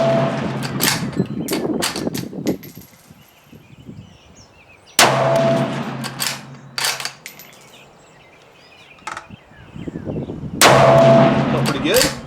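Ruger American Ranch Rifle in 7.62x39 fired three times at a range, sharp loud reports spaced about five seconds apart, each trailing into a rolling echo, with faint background noise between shots.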